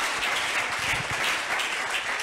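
A church congregation bursts into steady, dense applause that fills the space loudly and evenly throughout, with no pauses and no voices rising above the clapping.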